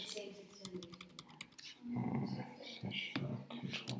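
Rapid keystrokes clatter on a computer keyboard, soft and close, with quiet speech partly overlapping the typing.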